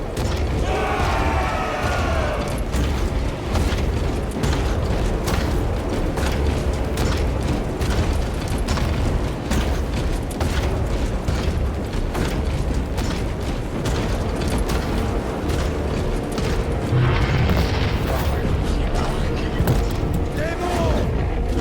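Artillery fire and explosions roar through a battle in the video game Space Marine 2, a dense, continuous barrage of booms, rumbles and mechanical clatter with voices mixed in throughout.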